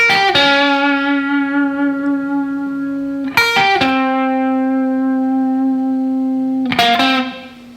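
A heavily distorted electric lead guitar plays the Mission Impossible theme, with long sustained notes ringing out, each picked attack followed by a steady, buzzing hold, three notes in all, loud and close.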